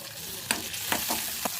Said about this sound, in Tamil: வெங்காயம் கொஞ்சம் வதங்கின உடனே தக்காளி போட்டுக்கலாம்